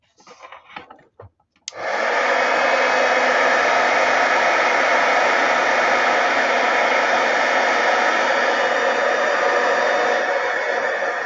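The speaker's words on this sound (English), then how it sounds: "Let's just get the heat gun and heat this up." A heat gun switches on with a click and blows a steady, loud stream of hot air over a paper craft project, a continuous broadband whoosh held at even volume. A few faint handling sounds come just before it starts.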